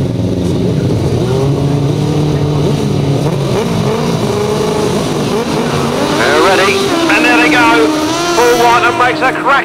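Grasstrack sidecar outfits roar off the start of a race, several engines revving hard and rising in pitch together, loud and close, with a commentator talking over them.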